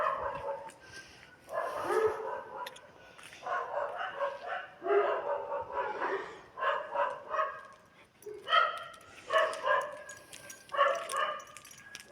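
Several dogs bark in repeated bursts, a chorus of yaps and howling barks rising and falling in clusters, moderately close with short pauses between volleys, reacting to a dog in their territory.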